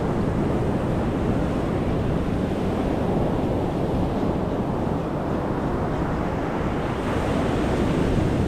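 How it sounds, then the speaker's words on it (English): Atlantic Ocean surf along a beach boardwalk rolls steadily and loudly, a continuous wash of breaking waves mixed with strong wind buffeting the microphone. "There's your Atlantic Ocean."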